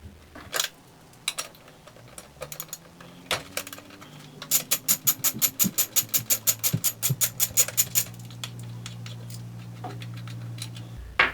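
A ratchet tool removes the crank bolt on a Commencal Ramones bike, giving a rapid, evenly spaced run of sharp metallic clicks in the middle with scattered taps and knocks before and after.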